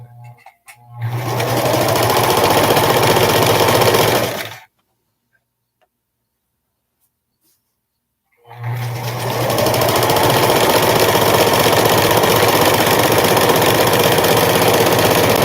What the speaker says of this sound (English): Use my guides and sew.